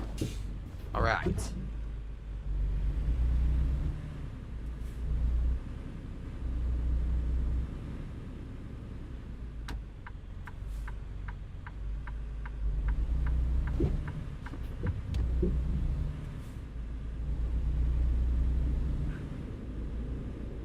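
A truck engine idles and rumbles low and steady in a drunk trucking game during refuelling, swelling in waves, with a quick run of clicking ticks midway and a voice talking over it.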